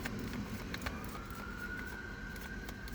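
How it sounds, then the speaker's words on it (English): Sirens wail faintly in the distance in a parking lot, a rising tone drifting over a steady rumble of background noise. "You hear the sirens, that's confirmation."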